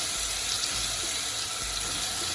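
Water runs steadily from a kitchen tap for hand washing, a soft constant hiss and splash at low level with no voices.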